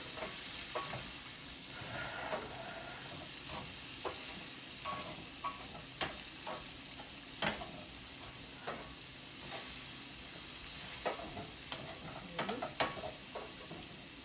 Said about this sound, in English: Let that saute just for probably another 30 seconds or so.